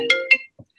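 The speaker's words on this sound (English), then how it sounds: "The phone rang." A phone ringtone plays a short electronic melodic chirp of two quick tones followed by a brief lower blip, loud and close with no talking over it.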